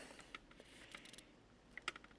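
Keys are tapped in sparse, quiet clicks on a laptop keyboard being tested on an Acer Z1402 Intel Core i3 motherboard, a few separate presses spread out with short gaps between them.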